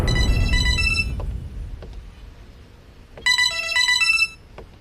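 An incoming-call phone ringtone sounds in two short bursts of bright electronic melodic tones, separated by a quieter pause with low background rumble and faint clicks.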